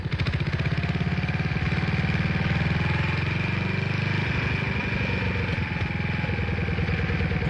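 A small motor on a wooden pirogue runs steadily on a river, a close, loud, throbbing engine drone with a fast even pulse that holds for several seconds.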